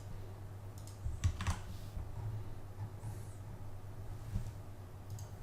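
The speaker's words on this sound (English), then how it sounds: "you're going to want to pause this and type it out as you see it" Faint computer keyboard typing while code is entered for an ASP.NET Core 2.0 database context, soft scattered clicks over a steady low hum, no voices.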